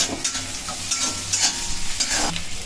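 Chopped green chilies sizzle and fry in a pan with onions for cauliflower bharta, a spatula scraping and stirring in steady, close strokes over a continuous crackling hiss.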